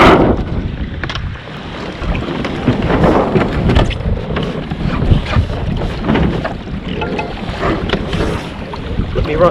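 A Hobie Tandem sailboat setting off from a beach and heading upwind at sea, with rushing water and heavy wind buffeting the microphone, loud and continuous.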